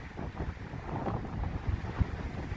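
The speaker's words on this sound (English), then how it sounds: "It certainly is windier than last week." Outdoor wind gusts buffet the microphone in a grassy spot, a steady low rushing roar with slight surges, continuous and close, no voices.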